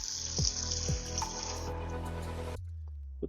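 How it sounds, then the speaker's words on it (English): A bowl goes into a kitchen sink under a running tap: steady rushing water with a few knocking clunks of the bowl against the sink, then the tap shuts off and leaves a near-quiet drip. "Now I'm gonna throw that bowl in the sink."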